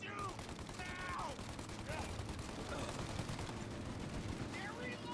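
Gunfire in a shootout in Mafia Definitive Edition, a rapid crackle of shots under voiced in-game shouting, fairly faint and continuous.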